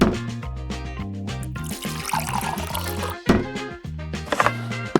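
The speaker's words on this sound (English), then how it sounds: "On the other side, pour in the milk, cream, sugar, and whatever flavoring you want." Milk, cream and sugar poured into one side of an ice cream ball, a steady liquid trickle and splash heard fairly close beneath prominent background music.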